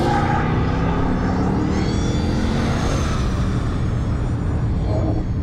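A car on a lap-timing track, either a Volkswagen Arteon R-Line or a BMW 550i xDrive, roars past with a deep engine note that rises and then fades, loud and continuous with no talk.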